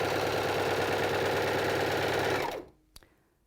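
A sewing machine stitching a rolled hem runs fast and steady, close by, for a couple of seconds, then stops abruptly, followed by a single sharp click.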